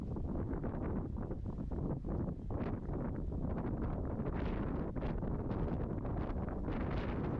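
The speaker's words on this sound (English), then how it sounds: "It was just too windy" Strong gusts buffet a microphone outdoors during an arrowhead hunt, a steady low roar of wind noise that stays loud and unbroken throughout, with no voices.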